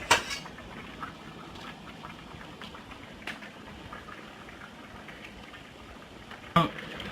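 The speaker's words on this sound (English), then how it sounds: "You have to let them boil." Small chopped fruit pieces simmering in a pot for baby food, with a soft, steady low bubbling hiss throughout and a couple of faint clinks.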